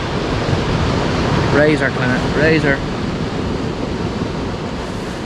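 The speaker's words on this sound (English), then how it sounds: "There's a bit of a swell on the sea." Sea swell washes against an Irish shoreline at night during cod fishing, a broad steady rushing roar, close and continuous, with someone briefly speaking over it.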